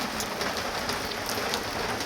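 Dense rain falls steadily on a surface in a continuous, even hiss of raindrops, fairly loud and close, with no voices.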